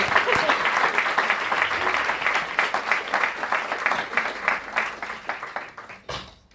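An audience at a public talk with Soledad Barruti at the Museo del Hambre bursts into applause: close, crisp clapping that stays strong for several seconds, then thins and tapers off, with faint voices beneath.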